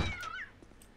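A cat's meow in the video game Postal, a single short rising-and-falling cry heard close and clear, fading quickly into quiet room tone.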